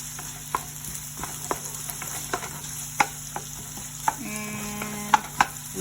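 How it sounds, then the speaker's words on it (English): Ginger fries in a pan with onion for a clam and tomato dish, a soft steady sizzle broken by several sharp scrapes and clinks of a utensil stirring against the pan, close by and without talk. "And let's put on the ginger. Let's just stir."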